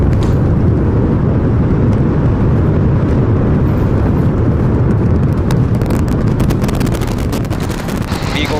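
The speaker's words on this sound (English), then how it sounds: "We have liftoff. Go Super Heavy. Go Starship." SpaceX Starship atop its Super Heavy booster lifts off from Pad 1 during Test Flight 11, its Raptor engines producing a dense, unbroken thunderous roar that stays loud throughout, with crackling bursts building toward the end.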